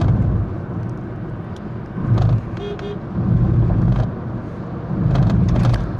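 A Renault Triber 1.0 with manual gearbox pulls in fifth gear, its engine giving a steady, moderate drone with slight swells as it accelerates, heard from inside the car and free of talk.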